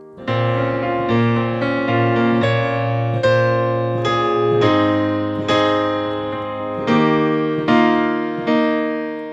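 Piano chords of the pre-chorus of a song played steadily in a flowing pattern, with a sustained bass line under repeated right-hand notes, clear and close with no voices.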